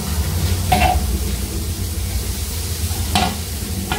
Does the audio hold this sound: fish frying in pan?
yes